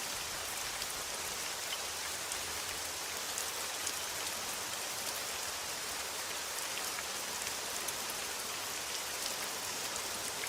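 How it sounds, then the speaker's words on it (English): A rain sound-effect track plays during a relaxed game stream, giving a steady, even hiss of rainfall and droplets on a surface, constant in level throughout with no voices. "I'm literally playing rain soundtrack"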